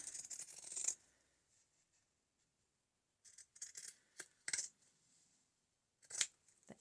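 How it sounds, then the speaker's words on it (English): Zigzag pinking scissors snip around the edges of fabric for a simple needle book, with crisp close cutting sounds in short bursts broken by quiet pauses and no speech. "around the edges I cut with the zigzag scissors"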